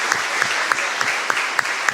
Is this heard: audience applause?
yes